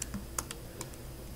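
Soft keystrokes on a computer keyboard during a math lesson, a few sparse clicks heard faintly and close over a quiet room hum.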